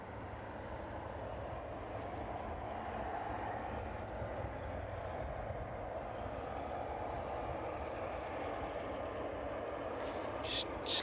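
Boeing 777 cargo jet inbound from Delhi on approach at East Midlands Airport in the evening, a steady distant broadband engine roar holding even throughout with no voices.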